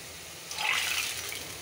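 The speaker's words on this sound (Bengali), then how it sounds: "এখন এটার ভিতরে তেলটা ঢেলে দিব" Cooking oil is poured into a pot in one brief, soft liquid splash that swells and then fades.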